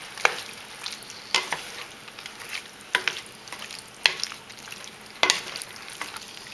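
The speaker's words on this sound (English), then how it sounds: "I'm going to stir this up a little bit." Spoon stirring stewed tomatoes into seasoned onions and mushrooms in a sizzling pan, a steady fry with irregular scraping strokes and taps, close and clear with no talk.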